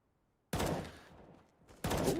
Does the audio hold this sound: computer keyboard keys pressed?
no